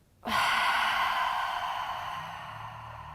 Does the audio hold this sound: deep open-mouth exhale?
yes